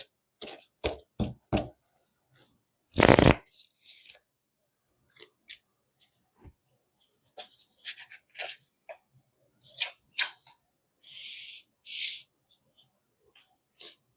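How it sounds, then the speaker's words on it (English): Tarot cards are shuffled and riffled in a series of crisp, snapping bursts with brief pauses between, close by and fairly loud. "I'm going to shuffle this"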